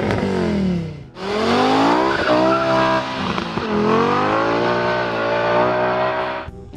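A V10-powered BMW Z4 with an engine stroked to 5.8 liters and up to 621 horsepower, driven hard: loud high-revving wail climbing through gears with a brief lift near one second, then sustained screaming acceleration before cutting off.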